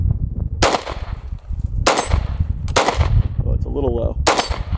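A SIG pistol fitted with a Romeo 1 Pro red dot fires four sharp, loud shots at uneven intervals, close by, with a person speaking briefly between them.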